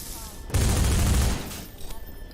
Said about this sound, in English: use the SMG to shoot the boards out of your way